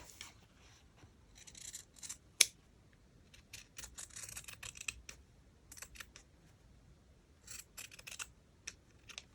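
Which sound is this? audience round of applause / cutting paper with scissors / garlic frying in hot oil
cutting paper with scissors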